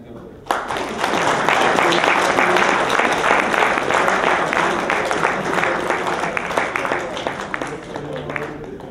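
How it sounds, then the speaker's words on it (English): Sustained audience applause fills a hall at the end of a minister's speech during a talk on economic and financial policy in Guyana, starting abruptly and holding steady, dense and loud for several seconds. "the minister would have gotten a bigger round of applause"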